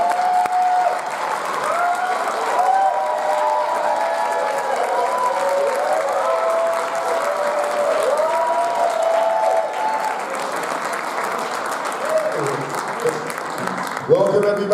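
A crowd at a school performance claps and cheers steadily to welcome a bassist on stage, a dense sustained wash of applause with voices calling out through it.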